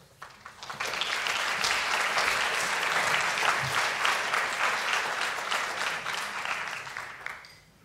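Sustained applause from a lecture audience welcoming a speaker to a talk on conscientious objection in pediatrics, a dense steady clapping that swells quickly, holds for several seconds, then tapers off.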